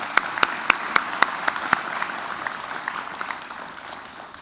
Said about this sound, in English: So please give a round of applause to all of our departments represented here today,